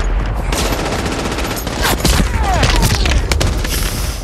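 Sustained machine gun fire with heavy booms and explosions in a World War II combat scene from Saving Private Ryan, loud, dense and continuous, with faint whizzing sounds amid the barrage.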